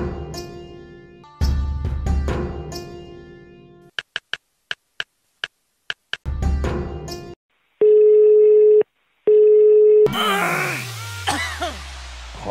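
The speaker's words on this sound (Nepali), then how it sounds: "एकचोटि डायमन्डलाई कल गर्नु पऱ्यो।" A telephone line sounds as a call is placed: a rapid series of short dial beeps, then two long steady ringing tones with a gap between them, loud and close.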